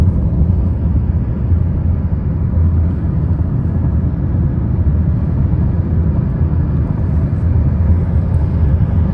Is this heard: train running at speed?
yes